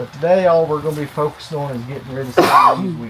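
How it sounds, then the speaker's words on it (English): A person coughs once, sharply and close, at the tail end of someone speaking in a high tunnel while weeding. "you coughed. I thought you sneezed."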